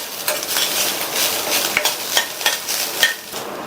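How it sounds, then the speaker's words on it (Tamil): Grated coconut and fried cashews sauté in a pan, a steady frying hiss broken by a rhythmic series of spoon scrapes and taps against the metal, close and fairly loud. "இது கூட 1/4 கப் தேங்காய் துருவலை சேர்த்துட்டு 1 நிமிஷத்துக்கு நல்லா வதக்கி விட்டுக்கங்க"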